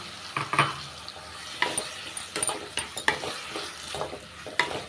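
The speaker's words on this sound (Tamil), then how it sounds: "உருளைக்கிழங்கு லைட்டாக வதக்கிக்கலாங்க" Cut potatoes sauté in oil alongside wilted spinach, with a steady sizzle beneath repeated spatula scrapes and clinks against the pan, close and moderately loud, and no one speaking.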